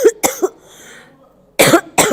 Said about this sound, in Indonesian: batuk itu gue.